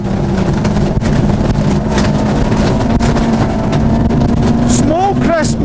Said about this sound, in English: Here is Rowlands, right up on the rev limiter.